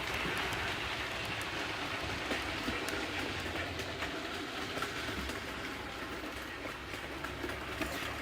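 A model railway engine with a sound unit running on a layout track, giving a continuous rumbling chug with soft rhythmic clicks at a steady moderate level.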